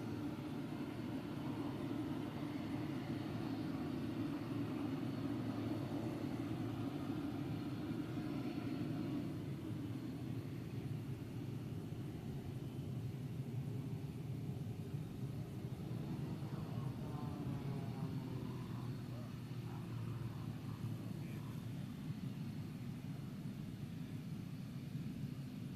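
A fixed-wing aircraft at the NAS Oceana air show turns onto its base leg, a steady broad engine roar held at a distance for the whole stretch, with no talk over it.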